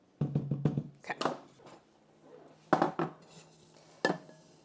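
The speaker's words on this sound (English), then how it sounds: "Now I'm gonna mix together." Ginger cake ingredients being mixed in a kitchen bowl: clusters of clinking, scraping utensil taps against the bowl come in short bursts with quiet pauses between, close and fairly soft, with no talking.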